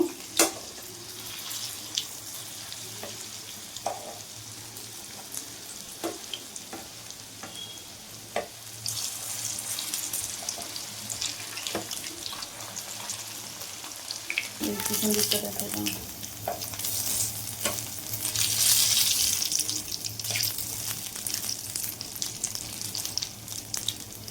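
Flattened rice (chira) pakoras fry in hot oil with garlic, giving a continuous close sizzle that swells louder in the second half, broken by occasional spatula scrapes and clinks.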